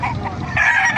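At a chicken market in Bocaue, Bulacan, a rooster crows loudly and close by, one strained call lasting about a second amid other fowl.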